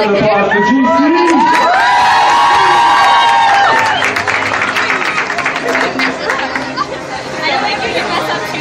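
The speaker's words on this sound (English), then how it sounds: "let's have a big round of applause for GC" A crowd cheers, whoops and shouts loudly, then settles into dense chatter and applause, all close and sustained with no single voice standing out.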